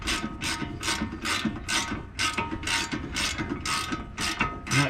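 Ratchet wrench clicking steadily in rapid bursts while backing out long front brake caliper bolts on a 2014 Dodge Charger SXT, close and loud with no talk.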